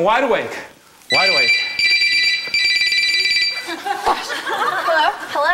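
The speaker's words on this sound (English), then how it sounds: "As soon as the phone rings" A telephone rings in loud repeated electronic bursts during a televised hypnosis stage show, with a person speaking over and between the rings.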